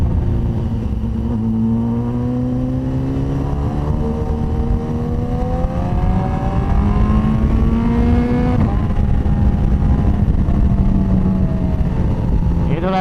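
BMW HP4 superbike revving up through the gears with quick-shifter changes, engine pitch climbing steadily then dropping at a shift around the middle, loud and continuous close to the microphone.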